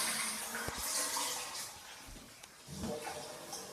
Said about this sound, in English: The toilet flush is working.